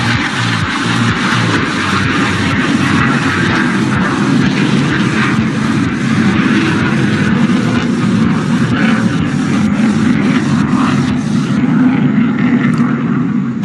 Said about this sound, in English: here she comes, presenting to you for the first time, Bharat Ki Shaan, the light combat aircraft